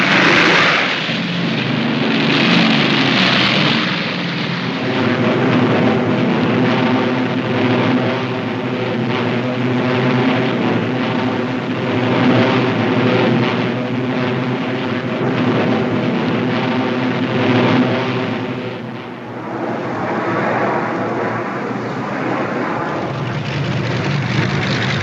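Luftwaffe transport aircraft flying over Russia during the Stalingrad airlift of 1942–43, a steady loud propeller-engine drone that holds continuously with a deep rumble and shifting overtones.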